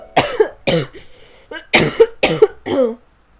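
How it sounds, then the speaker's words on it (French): A series of harsh coughs, about six bursts in quick clusters with brief pauses, close and fairly loud. "Pour m'entendre tousser là, c'est pas très agréable."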